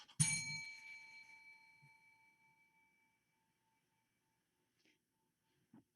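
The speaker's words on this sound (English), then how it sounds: "All right, I'm ringing the bell now." A single bright bell strike rings out clearly and decays slowly over a few seconds into near silence.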